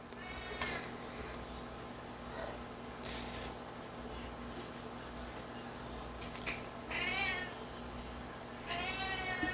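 A cat meows indoors, several short, moderately faint calls spaced across the stretch over a steady low electrical hum, without speech.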